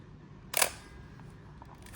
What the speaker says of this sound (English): When you wind the film, look at here.